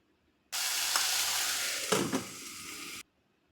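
Tomatoes and methi leaves stir-fried in hot oil, giving a steady close sizzle for about two and a half seconds with a couple of louder scraping stirs near the end, then cutting off to quiet.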